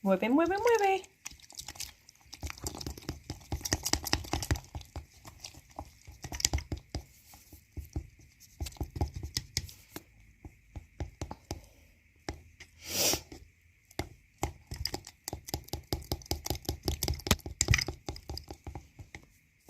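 Sourdough starter being stirred with filtered water in a container, giving a quick, irregular run of wet clicks and sticky patter that comes in bursts with brief pauses, close and fairly quiet.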